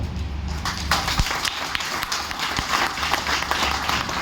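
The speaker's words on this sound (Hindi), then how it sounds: "अच्छा ये ताली मेरे लिए बजा रहे क्या?" An audience at a training seminar in Gurgaon, Haryana claps steadily and fairly loudly, a dense patter of hands with a low hum beneath it.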